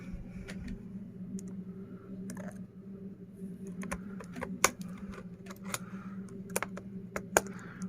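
A laptop keyboard is pried loose by hand, one-handed, from an unbranded laptop with a crashed system. Sharp plastic clicks and snaps come in irregular bursts, close by, over a steady background hum.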